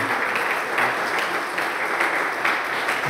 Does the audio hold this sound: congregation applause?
yes